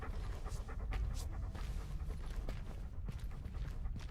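A dog pants in the video game Dishonored 2, a steady run of quick breaths close by with a few sharp knocks and thuds scattered through, no talk.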